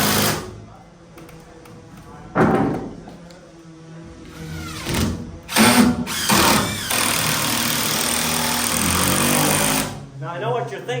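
A power driver runs a screw into the top of a stacked log on an Ozark log home, whirring in loud bursts that rise and bog down, with a long sustained run near the end amid nearby talk.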